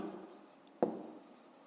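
Pen writing math notes on paper, a faint soft scratching followed by a single brief tap, close and quiet, with no voices.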